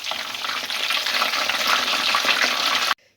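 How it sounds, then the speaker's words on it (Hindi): Nargisi koftas, eggs wrapped in minced meat, frying in hot oil, giving a loud, steady crackling sizzle that runs unbroken for about three seconds and then cuts off abruptly. "अब इसके अंदर ये जो हमने नरगिसी कोफ्ते बनाए हैं इनको फ्राई कर लें।"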